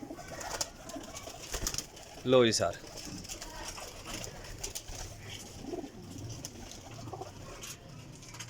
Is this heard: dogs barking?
no